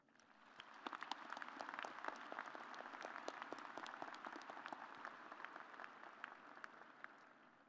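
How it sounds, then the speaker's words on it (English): Audience applause at a Virginia Tech fall university commencement ceremony, steady dense clapping from a large crowd that holds at an even level throughout, no voices on top. "please recognize with your applause these members and representatives to the university's governing body"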